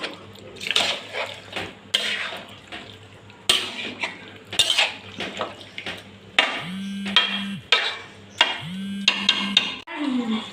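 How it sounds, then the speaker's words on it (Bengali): Water is poured into a pot of cooking meat among scattered metallic clinks and utensil knocks. Short bursts of splashing and running water alternate with brief sustained tones from the kitchen. "মাংসটার মধ্যে জল দিয়ে দেবো।"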